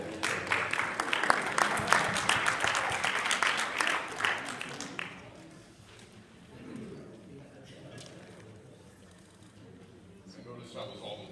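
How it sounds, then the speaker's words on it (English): Women in a church audience clap in a burst of loud, dense applause that fades after a few seconds, leaving quieter room noise and scattered sounds. "I noticed that was all the women clapping."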